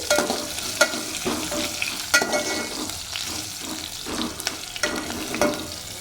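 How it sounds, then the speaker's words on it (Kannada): Onions frying in a home-kitchen pan with occasional stirring, a steady close sizzle broken by repeated scrape-and-clack strokes of a spoon every second or so, no talking. "ಈರುಳ್ಳಿ ಹಾಕೊಂಡು ಸೊ ಈರುಳ್ಳಿ ಚೆನ್ನಾಗಿ ಸ್ವಲ್ಪ ಫ್ರೈ ಆಗಲಿ"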